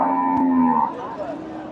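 A dairy cow at a cattle market lets out a loud, drawn-out moo close by, its low call sliding and fading over about a second and a half.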